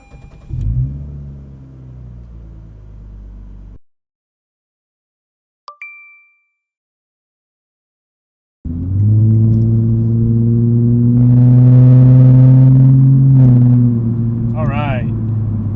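A brief engine rumble, then silence and a single ding, before the 3.5-litre V6 of a 2022 Lexus IS 350 F Sport starts and settles into a loud, steady idle.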